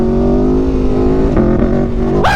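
An Aprilia Tuono 1100RR engine revs hard while the rider pulls a wheelie, a loud, close, steady roar that climbs and then spikes sharply at the end.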